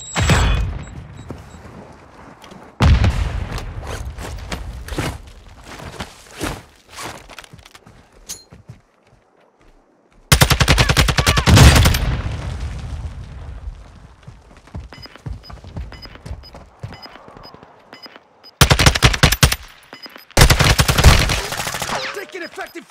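Gunfire in the Call of Duty Warzone 2 video game, loud bursts of automatic and single shots in separate clusters with quieter gaps of footsteps and movement between them.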